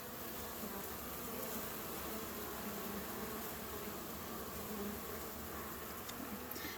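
Dense, steady buzzing of many honeybees inside a shipped bee package, a close continuous drone at low level with no pauses.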